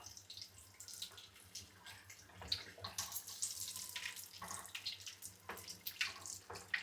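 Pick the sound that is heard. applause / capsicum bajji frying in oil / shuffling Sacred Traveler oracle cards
capsicum bajji frying in oil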